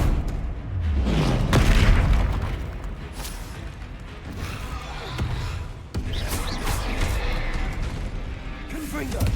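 The Confringo fire spell in Hogwarts Legacy goes off in a string of heavy booming blasts and crackling impacts during combat, loud and continuous with low rumbling thuds throughout.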